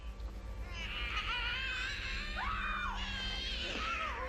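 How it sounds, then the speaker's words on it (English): A girl's high, shrill screams in the 1985 horror film Re-Animator, sustained and wavering, rising and falling in pitch over a low rumbling background, loud and close throughout. "A screaming girl."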